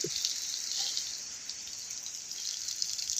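A steady, hissing rush of water pours continuously, close and fairly loud, with no talking.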